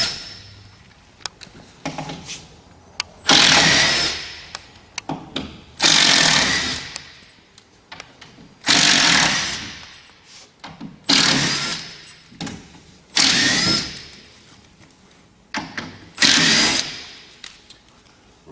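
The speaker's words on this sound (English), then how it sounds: "The next step is to remove the screws down the sides and then the one screw in the front here." A power driver backs screws out of a Harvest Saver shipping crate in repeated loud, whirring bursts of a few seconds each, separated by short pauses with small clicks and handling knocks.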